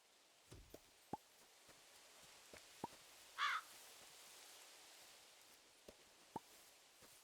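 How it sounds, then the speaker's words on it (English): A crow in the Moonlight Peaks video game demo gives one short, clear caw against a quiet outdoor background dotted with soft clicks and taps. "I hear you, Mr. Crow."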